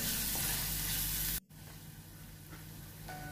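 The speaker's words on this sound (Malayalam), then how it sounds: "അപ്പോൾ ഇടയ്ക്കൊന്ന് വന്ന് ജസ്റ്റ് ഒന്ന് മിക്സ് ചെയ്ത് കൊടുക്കാം." Fish curry sizzles in a pan while it is stirred to keep it from burning. A dense, close frying hiss is broken by a short pause, then continues more softly with faint scraping.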